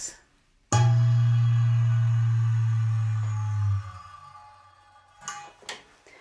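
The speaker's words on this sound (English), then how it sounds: "I'm going to put a split ring on the string here, and now it's going to sound like this." A single guitar string with a metal split ring clipped onto it rings out in one loud, sustained, buzzy low note that slowly decays and fades out over about three seconds, followed by a couple of faint handling clicks.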